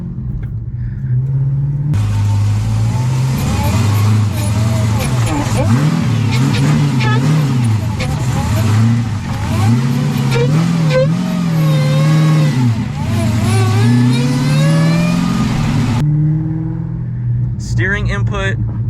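Dodge Hellcat fitted with a drift angle kit looping in tight circles through a sharp U-turn, its engine droning and surging steadily for around fourteen seconds, with quieter moments before and after.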